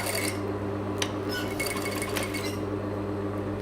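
A sewing machine runs in a steady continuous whir with light mechanical ticking while back tacking stitches on a curved facing, close and alone.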